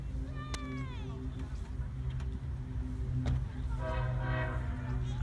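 Ringling Bros. circus train rolling past outdoors, a steady low rumble with a horn sounding briefly early and again near the end, while people talk nearby.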